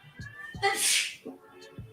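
A woman sneezes once, a sharp burst in a room, with faint background sounds before and after.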